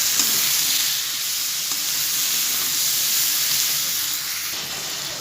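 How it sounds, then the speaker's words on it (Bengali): Cut yardlong beans fry with a potato and tomato masala, giving a loud, dense, continuous sizzle with a steamy hiss that holds steady throughout. "দিয়ে দেবো এবার কেটে রাখা বরবটিগুলো। বরবটিগুলো কষিয়ে নেবো একটু।"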